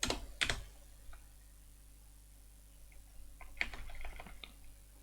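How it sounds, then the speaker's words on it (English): Bursts of typing on a computer keyboard, a quick flurry of clicks at the start and another cluster near the end, fairly close with quiet pauses between. "If I type something."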